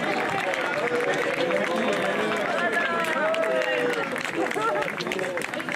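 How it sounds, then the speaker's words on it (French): A crowd at a sports club event applauds loudly, with thick continuous clapping mixed with cheering voices and shouts that stay sustained from start to finish. "On peut l'applaudir bien fort."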